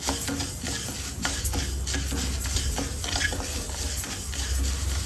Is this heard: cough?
no